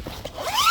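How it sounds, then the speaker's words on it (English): The zip on a Decathlon '2 Seconds Easy' tent is pulled open in one quick, close, rasping stroke that rises in pitch, heard without voices. "So first we undo the zip."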